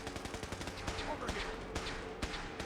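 Rapid automatic gunfire from a Fallout 4 battle with super mutants, a dense stream of cracking shots and scattered louder bangs, fairly distant and steady, mixed with other game sounds.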